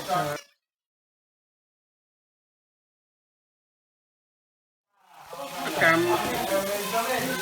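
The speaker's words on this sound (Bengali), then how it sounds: "চিংড়ি মাছ ভাজি হয়ে গেছে।" Shrimp frying in a pan sizzle and crackle loudly up close, a dense hiss that starts abruptly after a long stretch of silence, following a brief burst of sizzling at the very start.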